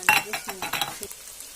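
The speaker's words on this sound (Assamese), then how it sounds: "আদা নহৰু দি পেলাই ভাজি ল'ম এইখিনি" Ginger-garlic paste and onions fry in a pan for chicken curry, a brief burst of close sizzling broken by quick metal stirring scrapes and light clinks.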